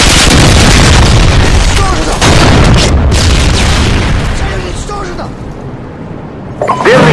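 Predator missile blast in a Sabotage on Terminal match: a loud, sustained booming roar that fills the clip and slowly fades, with voices calling over it.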